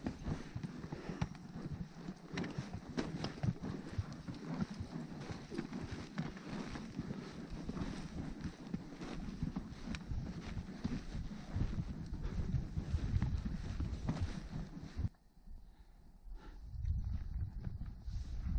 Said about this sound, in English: this is a big old pull for the horses